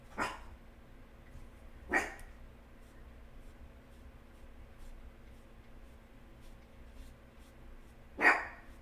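A small dog barks indoors during a quiet painting session, three short sharp barks spaced several seconds apart over a faint background hum.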